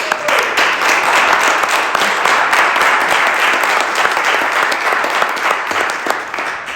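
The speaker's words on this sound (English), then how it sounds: "If I knew you would clap for that" An audience applauds steadily and loudly, a dense wash of many hands clapping that holds for several seconds before tapering slightly at the end.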